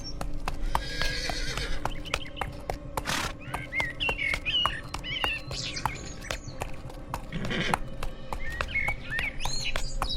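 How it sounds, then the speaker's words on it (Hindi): A king's horse in an animated cartoon sets off toward a forest hunt, with steady clip-clop hoofbeats, a couple of neighs and birds chirping around it in the background. "अपने घोड़े पर सवार होकर निकल पड़ता है शिकार की तलाश में।"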